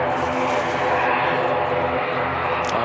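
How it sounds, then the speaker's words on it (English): An ATR turboprop airliner departs Christchurch Airport in wet conditions, its loud propeller and engine roar steady and close, droning continuously with a faint voice beneath. "the ATR that's popping out now is not on the flight radar"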